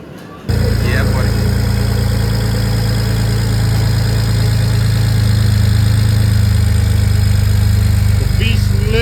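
A turbocharged V4 car engine idles steadily and loudly after repairs to persistent coolant leaks, starting abruptly with a low rumbling drone that holds constant throughout.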